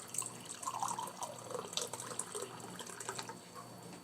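Filtered water pours steadily into a container at close range while feeding a sourdough starter, a continuous splashing trickle with no voices.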